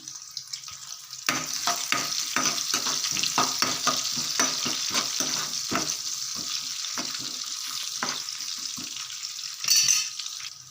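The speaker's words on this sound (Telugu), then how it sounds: "కట్ చేసుకున్న ఆనియన్స్ టేస్ట్ బాగుంటుంది ఆనియన్స్ వేసుకుంటే వేసుకొని ఒకసారి బాగా కలిపేసుకుందాం" Chopped onions frying in a pan for a Telugu black-eyed pea dal stew, a steady close sizzle broken by repeated scraping stir strokes, with no talk.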